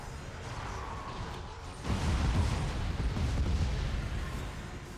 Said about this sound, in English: My explosion radius does hit me whenever I fire it.